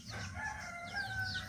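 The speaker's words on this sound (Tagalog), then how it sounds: "Yung mga alaga nating manok," A rooster crows nearby in a long drawn-out call, with chickens clucking in the background.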